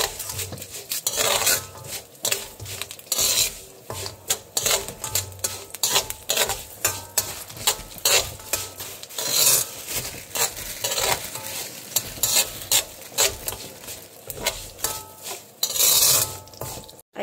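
Curry leaves sizzle in hot oil in a pan for a chicken curry while a utensil stirs and scrapes in steady, repeated strokes, loud and close, with no talking.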